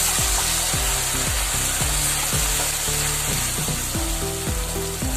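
Onion-garlic paste frying hard over a high flame in a pan for a pea and mushroom curry, a loud steady sizzle throughout with a regular run of scraping stirs close by.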